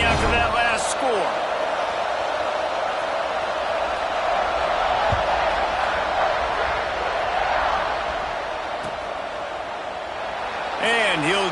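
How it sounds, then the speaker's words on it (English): Stadium crowd in the College Football 26 video game roars in a steady, loud buzzing wash after a touchdown, with a commentator's voice faintly over it. "this crowd is buzzing after that last score"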